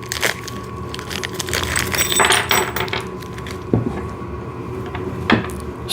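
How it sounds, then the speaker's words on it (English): Paper envelope holding VEVOR snow shovel parts, with an Allen key and bolts, is torn and handled close up, giving irregular crinkling, rustling and tearing with a few sharp clicks and knocks, and no talk. "Let me just get this envelope open."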